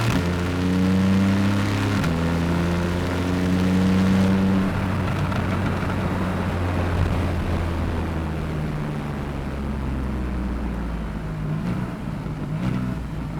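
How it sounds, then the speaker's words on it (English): A Porsche 911 Targa 4S of the 991.1 generation downshifts with a loud, close engine note, its steady revving drone stepping between pitches as the gears change, with no talking over it. "On the downshift, what a phenomenal sound you get."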